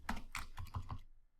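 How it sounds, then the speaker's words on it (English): Several quick keystrokes on a computer keyboard, about five crisp clicks in an uneven burst, close and clear, then stopping into silence. "I think I did a little too much typing there"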